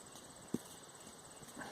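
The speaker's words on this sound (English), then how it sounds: "I got a horse walking by." A horse walks by with faint hoof clip-clops, one sharper clop standing out, over a quiet, steady outdoor background.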